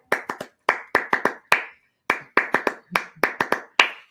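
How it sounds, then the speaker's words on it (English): Hand claps in small irregular bursts of two to four sharp, close claps separated by short silences, sounding like a few people rather than a large crowd. "I'm going to make sure that you all are clapping it up with us"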